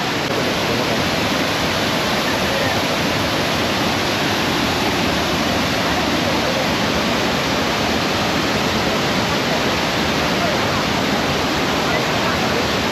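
Savdav waterfall near Kankavali in Sindhudurg roars in a dense, steady wash of falling water that stays loud and close for the whole stretch, with no breaks or pauses.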